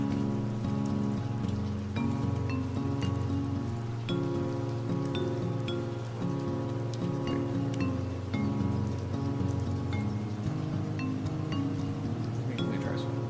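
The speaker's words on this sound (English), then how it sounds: "It's acid rain up here? So, is this whole area acid rain?" Acid rain in the video game Kenshi patters steadily on the ground, a constant hiss of drops that runs beneath sustained game music throughout.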